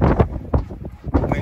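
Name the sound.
gusty wind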